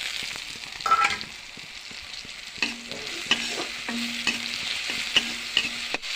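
Crushed ginger and garlic frying in a pan for vegetable fried rice with cabbage and egg, a steady soft sizzle broken by scraping stirs and a few sharp clinks of the spatula.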